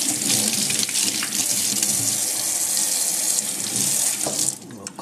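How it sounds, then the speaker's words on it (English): A Slap Chop chopper rinsed under a running kitchen tap, a loud continuous splashing water stream hitting the sink for several seconds before easing off, with no talk. "you turn this, open it up, and you rinse it off"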